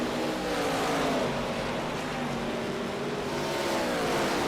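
Race car engines in an ARCA sim racing video game at Watkins Glen drone steadily and fairly loud, several engine tones layered together in a continuous unbroken roar with no talking.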